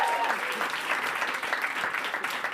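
Applause fills a large hall as attendees at a careers insight day clap steadily throughout, a dense, even patter with crowd noise mixed in.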